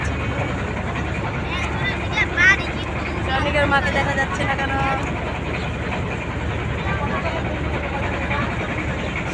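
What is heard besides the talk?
trawler boat engine running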